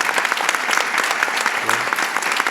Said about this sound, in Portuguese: Eu queria uma salva de palmas para vocês.